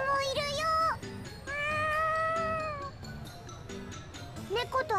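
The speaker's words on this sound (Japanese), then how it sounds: "猫と遊んでるの？" A cat meows repeatedly in Tales of Xillia 2, several clear, close, rising and falling cries over soft game background sounds.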